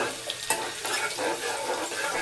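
Garlic and curry leaves fry in hot oil with a steady, close crackling sizzle, stirred throughout, with a few sharper pops and no talking.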